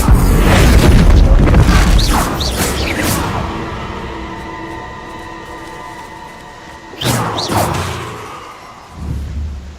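A Bombarda spell blast in Hogwarts Legacy during a Merlin trial, a loud booming impact with whooshes that rumbles and decays over several seconds, followed by a second, smaller burst and a low thud near the end.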